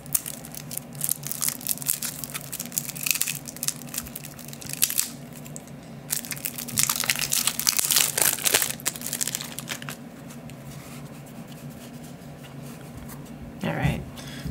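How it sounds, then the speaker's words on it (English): Cards from a board game expansion flipped one after another, close papery riffles and crinkles under a voice talking throughout. "let's flip through the cards and see what we got"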